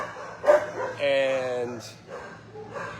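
Shelter dogs, including a dark pit bull type, bark and yip in short bursts close by at a rescue walk-through, mixed with a person talking.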